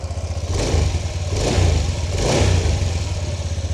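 A restored motorcycle revs close by, its engine rising and falling in two or three quick throttle blips over a rumbling idle, loud and alone with no voices.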